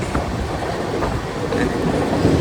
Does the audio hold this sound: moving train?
yes